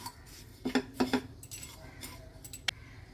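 Coriander and caraway seeds stirred over high flame in a pan for homemade mukhwas, a few quick metallic scrapes and clinks of a spoon against the pan, close and moderately quiet, with soft rattling between.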